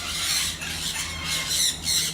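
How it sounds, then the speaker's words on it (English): Birds squawking at Jurong Bird Park, a series of shrill, raspy calls repeating in short bursts at close range over steady outdoor ambience, with no talking. "these guys are gonna make themselves known. They're like squawking away"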